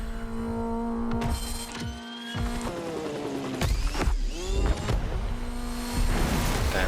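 Racing car engine in the video game The Crew Motorfest, a loud continuous motor drone with rising and falling pitch sweeps as it revs and shifts, with brief thumps and a possible tire squeal, and no talking.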